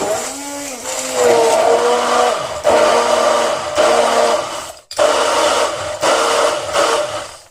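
A kitchen mixer grinder lightly blends chocolate pancake batter with milk in short pulses, with about five loud whirring bursts separated by brief pauses and no voices.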